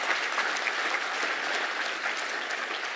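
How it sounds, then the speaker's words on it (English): Steady round of applause from an awards-night audience honouring winning coastal entrepreneurs, dense and even throughout at moderate distance, with no voices rising above it. "Can we give them a round of applause?"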